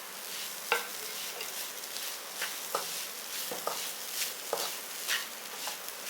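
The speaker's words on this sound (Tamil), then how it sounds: "தேங்காயை நல்லா இதில் வறுத்து விடுங்க." Grated coconut frying in ghee with beaten rice gives a quiet, steady sizzle, broken by repeated scraping stirs of a spatula against the pan at irregular intervals.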